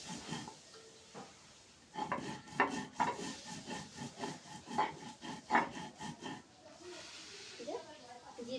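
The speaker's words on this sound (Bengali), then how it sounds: "জিরাটা আর এলাচ ফলটা বেটে নেব।" Cumin and cardamom ground by hand into a paste for a rohu fish curry: a run of rhythmic, rasping rubbing strokes, close and moderately loud, with quieter scraping before and after.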